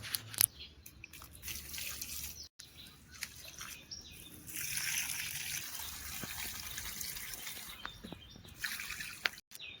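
Water is poured from a bucket onto plants outdoors, giving soft splashing and trickling with scattered drips, quiet and uneven, while birds chirp faintly in the background.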